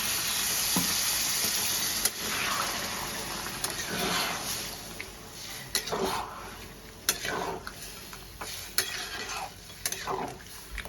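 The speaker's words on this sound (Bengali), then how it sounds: "আমি এবার পরিমাণ মতো জল অ্যাড করব।" Water poured into a hot pan of potato dal with mustard, a continuous hissing sizzle with scattered clinks and scrapes of stirring.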